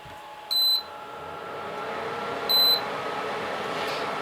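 A tabletop induction stove showing an E1 or A1 cookware sensor error gives two short, bright electronic beeps about two seconds apart, each clear above a faint steady background hum.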